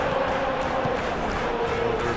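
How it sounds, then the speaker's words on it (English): Capacity stadium crowd at Old Trafford in the PES 21 football game, a steady dense roar of massed voices with a faint sustained chant tone running through, continuous and fairly loud throughout. "A capacity crowd here."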